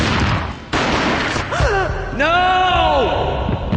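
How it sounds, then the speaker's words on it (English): A gunshot booms in the mobile video game Max Payne Mobile, a sharp blast followed by further thuds, and then drawn-out, wavering voiced cries. "A gunshot boomed and she fell down in slow motion."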